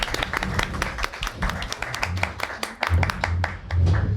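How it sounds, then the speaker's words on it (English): An audience in a resort event space gives a round of applause, with distinct, close individual claps from a modest crowd and a low murmur of voices underneath. "Round of applause, definitely."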